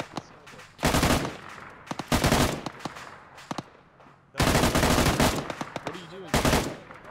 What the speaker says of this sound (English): get up because we are under fire from BMP